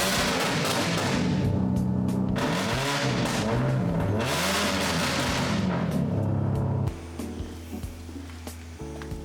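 Badly modified car exhaust revving hard, a loud, raspy, flatulent blat rising and falling through repeated throttle blips, then dropping to a rough, sputtering idle.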